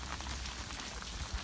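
Rain falls on water where a Great Dane is swimming, giving a steady, dense patter and splash with a few louder low thumps, close and continuous without any voices.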